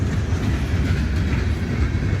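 A CSX freight train led by a B&O heritage locomotive rumbles past nearby in a steady, dense roar of rolling wheels and rail noise, with no voices.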